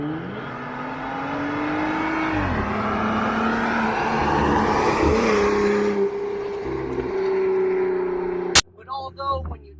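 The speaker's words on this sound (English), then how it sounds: "The tire noise from the big mud tires definitely give you kind of really not even like a connected feel to the road." A 2016 Jeep Wrangler Rubicon Unlimited on big mud tires cruises along, its steady engine drone and loud tire roar continuous and close for most of the stretch before a sudden thump cuts it off and brief talking follows.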